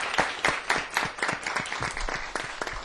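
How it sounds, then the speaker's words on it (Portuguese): A modest audience at a closing education event gives a short, steady round of clapping, the individual claps distinct and fairly close, with no talking over it. "a gente podia encerrar com uma salva de palmas para todo mundo que está nos vendo"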